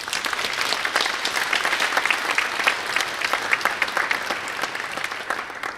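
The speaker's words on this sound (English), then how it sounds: "Let's give everybody a round of applause" A round of applause from the crowd at a college athletic honors and awards ceremony for the Fighting Engineers, many hands clapping in a steady, moderately loud wash that continues for several seconds.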